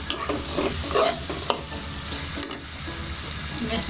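Bitter gourd (karela) roasting and frying in a pan, a steady close sizzle with scraping stir strokes throughout, no talking.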